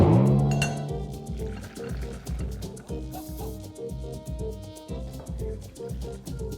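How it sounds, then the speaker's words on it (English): Boiled almonds strained and dropped into cold water, heard as a sustained liquid pour with clinking and dripping under a steady mechanical hum, close and fairly loud. "I am going to strain it and put it in some cold water so that I can quickly peel it."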